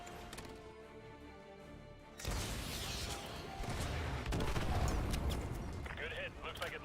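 Heavy AGM missile strikes in Call of Duty: Modern Warfare 2 land as a sudden loud roar of blasts and rumbling debris, erupting after a quieter stretch and sustaining under game noise and chatter.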